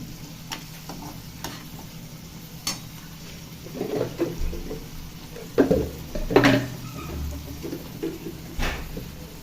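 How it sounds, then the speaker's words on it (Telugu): Chili powder frying with eggplant for eggplant chutney, a soft sizzle under intermittent scraping stirs and clinks of a spoon against the pan, close and moderately quiet. "ఒక స్పూన్ కారం వేసి బాగా వేయించాలి"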